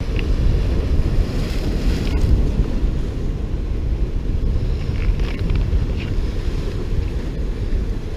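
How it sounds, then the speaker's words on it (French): Heavy wind roars across the microphone at a Mediterranean seashore reef on a stormy day, with rough waves breaking underneath in a constant, loud, close wash. "Beaucoup de vent, comme vous pouvez l'entendre."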